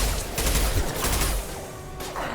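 An impact shot is fired in Mass Effect 2, a loud burst of gunfire at close range followed by a rougher, quieter tail of battle noise.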